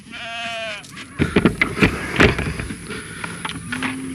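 A sheep lets out one clear, wavering bleat close by on a farm, followed by rustling, thumping movement of livestock and a short second bleat at the end.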